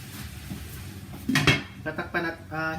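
Metal clatter of a lid set onto a pan of garlic shrimp and crab, a few sharp clanks and rattles close by in a kitchen.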